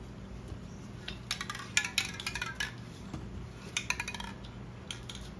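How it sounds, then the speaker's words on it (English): Plastic lids pressed and clicked onto small paint containers, a scattered run of light clacks and clinks, close and fairly quiet, coming in two clusters with no talk. "I'm gonna put the lids on the rest of these."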